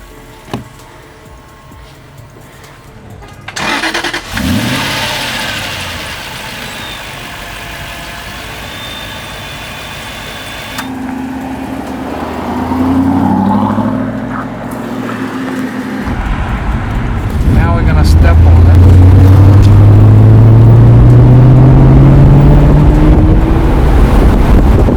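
An Aston Martin Vantage engine cranks and fires, settles into a rough idle, then revs up louder with rising pitch toward the end, close by.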